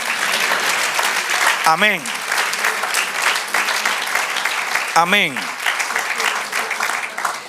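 A church congregation claps in steady applause during a sermon, continuous and fairly loud, while a voice twice calls out over it.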